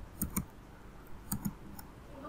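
Typing on a computer keyboard while entering an address into a web browser on Windows 10, heard as two quick pairs of crisp key clicks, close and fairly soft, with no talking.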